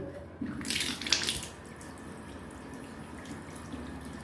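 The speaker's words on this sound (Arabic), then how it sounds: "شوف كده ضغط المية." Water runs from a tap in an apartment bathroom, a steady rushing hiss that swells loudly for about a second near the start, then settles into a quieter continuous flow.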